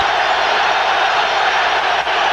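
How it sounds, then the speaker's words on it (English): A packed stadium crowd roars at the 2000 NFC Championship NFL game between the Vikings and Giants in New York, a loud, steady, wide wash of cheering with no breaks. "Listen to this crowd."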